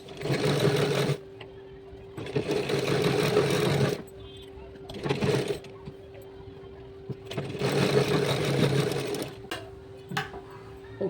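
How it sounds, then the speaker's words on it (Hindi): A sewing machine stitching a pant pocket runs in several bursts of steady whirring, each lasting one to two seconds, separated by pauses in which someone talks. "यहाँ पे सिलाई लगाएंगे हम।"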